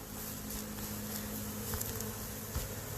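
Honey bees buzzing around a hive, a dense continuous hum of many bees, close and steady with occasional faint taps, no talking.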